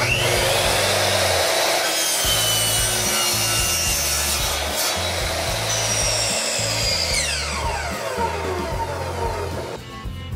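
Continuous rasping of a bandsaw cutting through a wooden board, steady and loud with rhythmic strokes throughout, no talking.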